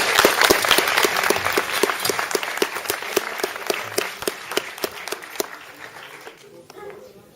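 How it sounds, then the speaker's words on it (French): An audience applauds a performer in a Paris science show, a burst of rhythmic clapping that slowly thins and fades out, with a few voices mixed in. "applaudissez-le."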